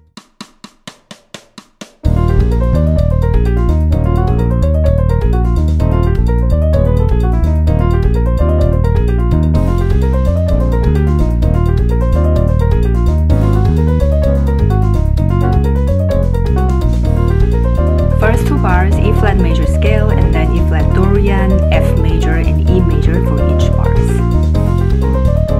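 Fast piano scales run continuously over the chords of a song, rippling up and down in even waves above a steady low bass pulse, loud and uninterrupted after a brief opening.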